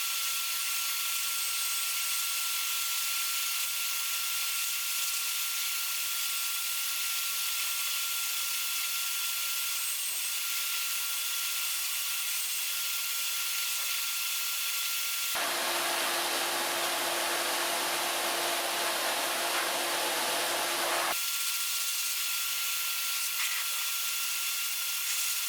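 Steady loud whoosh of a hair dryer blow-drying a dog, continuous airflow throughout with a stretch where the tone shifts brighter and fuller as the dryer moves closer, no talking.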